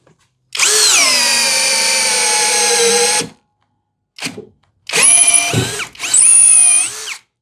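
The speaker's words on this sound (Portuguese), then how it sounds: "Ela travou aqui no finalzinho, mas conseguiu fazer perfuração na velocidade 2" A Hanabi impact drill bores into wood with a half-inch Speedboard spade bit, whining loudly for about three seconds, pausing, then running in two more shorter bursts near the end as it strains through the cut.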